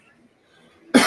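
A single abrupt cough from an itchy throat bursts out loudly and close at the end, after near silence with faint background murmur.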